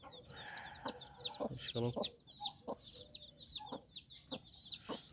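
Small chicks peep in rapid, high chirps that repeat through the whole stretch, with someone talking nearby in between.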